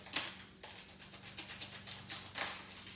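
A razor blade scraping and slicing off material while removing an indicator switch, giving a series of brief, close scratchy cuts over a low steady hum.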